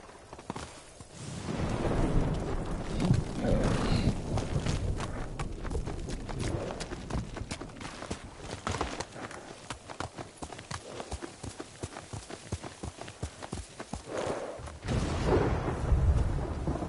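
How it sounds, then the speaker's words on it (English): Horse hooves gallop in Ghost of Tsushima, a steady rapid clip-clop rhythm that lasts throughout, with rumbling game ambience and brief voices in the background. "Horse!"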